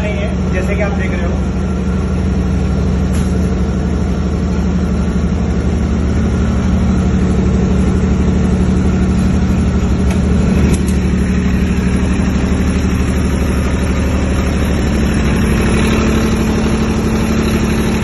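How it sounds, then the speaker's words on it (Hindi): A Cummins diesel generator set runs inside a soundproof acoustic enclosure, a steady, even engine hum with a low tonal drone holding constant throughout, while someone talks over it nearby. "कमिंस के जनरेटर सेट है"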